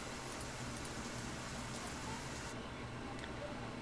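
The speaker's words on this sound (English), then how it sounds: "I will actually turn off the rain for now" Steady rain ambience plays as background for a tabletop role-playing session, a dense, even hiss of falling rain that stays constant for several seconds with no talking.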